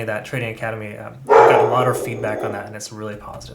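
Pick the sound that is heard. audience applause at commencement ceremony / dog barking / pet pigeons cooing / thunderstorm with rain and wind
dog barking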